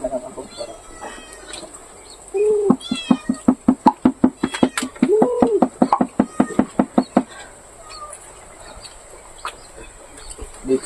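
A cat meows in a rapid run of repeated, fairly loud calls close by while being fed sardines, with a chicken clucking in the background and no talk.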